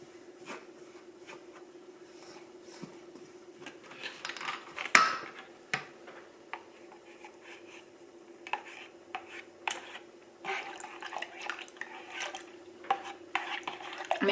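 Butter is stirred in a bowl with a spoon, making soft repeated scraping and rubbing strokes over a steady background hum, with one sharper clack partway through and quieter irregular scrapes after it.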